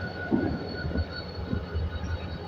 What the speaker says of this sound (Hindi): इस वक्त हमारी train Karachi city railway station पर अप्रोच बना रही है